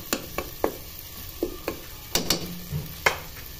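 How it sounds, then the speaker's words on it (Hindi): Minced meat and potatoes frying with tomatoes, a soft sizzle under repeated sharp scraping clacks of a spoon stirring the pan, irregular and close. "अब हम इसको मजीद भुनेंगे टमाटर डालकर अच्छे से।"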